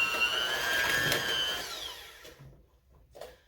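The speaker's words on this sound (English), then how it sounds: "I'm using a hand mixer because I had a lot of things to bring" Hand mixer beating soft butter in a bowl at moderate speed for cupcakes, a whirring motor whine with shifting pitch that runs for about two seconds and then stops, leaving quiet handling sounds and no talk.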